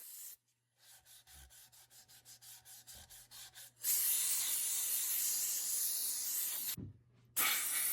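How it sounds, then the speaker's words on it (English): A microfiber cloth wiping sawdust off a sanded edge-grain wooden cutting board, a run of about a dozen quick rhythmic rubbing strokes, then a louder sustained hissing spray-like noise with a brief gap before it resumes. "I use a little microfiber cloth, and I'll wipe the sawdust off"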